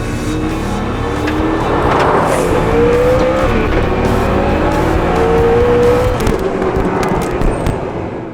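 Hennessey Venom F5 Revolution Evo hypercar running in its 2,000 hp F5 mode on a wet public road, engine loud and close throughout, rising in pitch through a couple of gear pulls with steady roar and tire noise.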